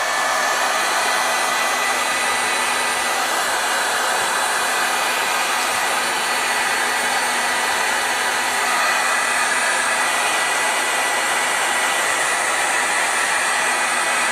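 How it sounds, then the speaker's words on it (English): Heat gun blowing hot air to dry freshly stamped ink, a loud, continuous whooshing blower drone with a steady motor whine that holds unchanged throughout, with no talking. "I'm going to attempt to take a heat gun and to expedite the drying process a touch"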